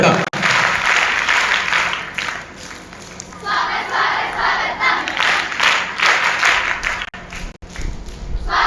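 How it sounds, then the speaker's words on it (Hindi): Young girls clap a welcome applause at an Arya Samaj women's camp gathering, a dense, sustained crowd of clapping with cheering voices that runs loud across the whole stretch with brief dips. "हमारी नन्ही बालिकाएं स्वागत ताली बजा"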